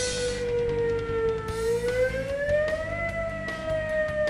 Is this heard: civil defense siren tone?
yes